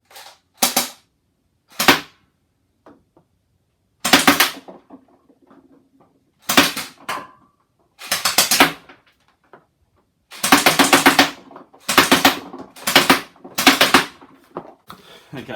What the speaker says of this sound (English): let's give this a shot and see if I can punch some holes in that carton.